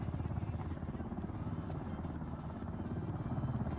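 Helicopter approaching in the video game Ring of Elysium, a low, pulsing rotor thrum with a steady droning engine hum, moderately loud and continuous, no one speaking.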